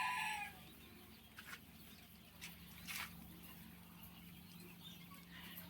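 Older birds kept in a pen, with faint clucks and a few short calls scattered over quiet farmyard background, distant and low in level.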